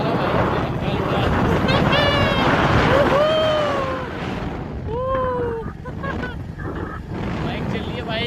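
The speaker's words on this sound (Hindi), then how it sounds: "बाइक चल रही है बाइक" A motorbike ridden in Uttarakhand gives a loud, steady engine drone and road rumble throughout, with voices talking over it and a few tonal honk-like sounds.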